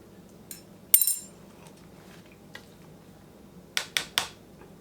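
A fork clinks against a dish of ranch chicken casserole in a handful of sharp, light taps, one near the start and a quick cluster of three near the end, over a quiet room hum.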